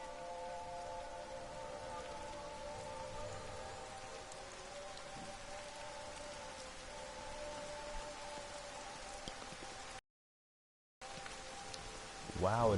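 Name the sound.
rain in video game Everybody's Gone to the Rapture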